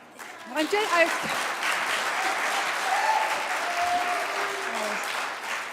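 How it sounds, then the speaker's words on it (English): A congregation at a Center for Spiritual Living service breaks into warm, sustained applause that swells quickly and holds steady, with a voice speaking over it near the start. "Almost let that applause go by without recognizing it."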